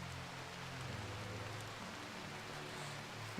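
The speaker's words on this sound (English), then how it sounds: "And the rain in Rimworld, it's pretty good" Soft, even rain falls in the video game Rimworld, a faint continuous hiss that stays steady throughout with no voices.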